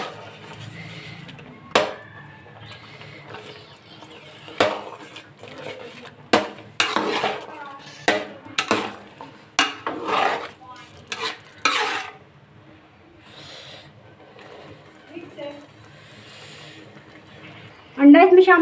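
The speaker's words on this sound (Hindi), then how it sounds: "मैंने 2 अंडे ले लिए हैं, इसमें शामिल कर दूँगी। और इसको मिक्स करना शुरू करूँगी।" Eggs are mixed into carrot halwa in a cooking pot. A spoon scrapes and clanks against the pot in irregular strokes, loud and close, with quieter pauses between bursts of stirring.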